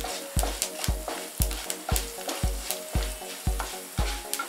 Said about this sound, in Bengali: এরপর ধনে ও জিরেটা দিয়ে 10 সেকেন্ড ফ্রাই করে নিচ্ছি।